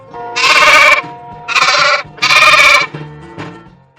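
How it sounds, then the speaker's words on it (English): Sheep bleating on a farm, three loud, drawn-out bleats in quick succession followed by a fainter, shorter bleat, close and clear with no talking. "Sheep."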